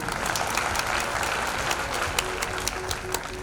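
Audience at a celebration event in Mumbai breaks into loud, steady applause for an upline leader, many hands clapping together with a few sharper claps standing out.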